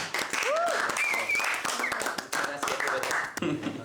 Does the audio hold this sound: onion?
no